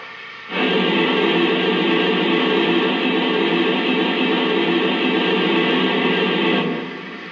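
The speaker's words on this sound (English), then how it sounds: "now let's check out the cylinder steam sound" A steady hiss of cylinder steam from a Lionel Nickel Plate Road 765 2-8-4 Berkshire model locomotive starts abruptly, holds evenly for about six seconds, then fades out; loud, broadband and continuous.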